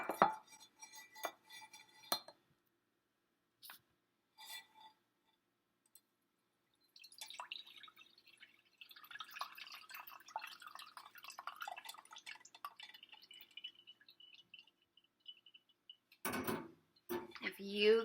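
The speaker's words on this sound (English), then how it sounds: "you guessed that the liquid would go all the way through into the cup below, but the solids would get caught and stuck" Juice drips through a strainer into a measuring cup, with scattered close drips and a trickling patter in the middle, ending in a louder clatter of kitchenware.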